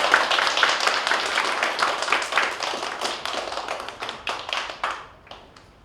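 An audience claps to welcome a guest lecturer at a political party talk event: dense, steady applause with many hands close by, thinning and fading out near the end.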